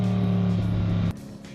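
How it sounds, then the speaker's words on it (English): BMW M850i V8 exhaust in Sport Plus mode with the valves open, a loud, steady deep drone that cuts off abruptly near the end, leaving a quieter low rumble. "it opens up the valves in the exhaust system and begins creating sounds"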